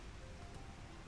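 Rain falls in the video game Final Fantasy 14 as a faint, steady, even hiss of drops, with no voices.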